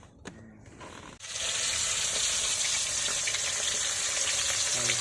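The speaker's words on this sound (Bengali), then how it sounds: "মাছ ভাজা শুরু হয়ে গেছে, দেখুন মাছ ভাজা হচ্ছে" Fish hit hot oil with a sudden burst of sizzling, then a loud, steady crackling fry carries on up close.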